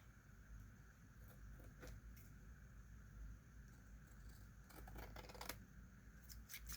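Scissors trim the paper on a Little Golden Book cover, cutting the paper but not the cardboard. A few scattered snips come first, then a quick cluster of crisp close cuts, all quiet, with no talking.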